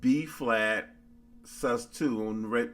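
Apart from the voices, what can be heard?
No everyday noise stands out behind the speech.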